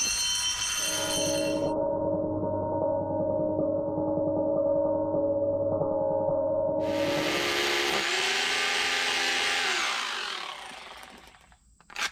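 A side grinder works an edge on a sun-room build, its loud steady whine holding a sustained tone that drops in pitch as it winds down, then trails off into quiet.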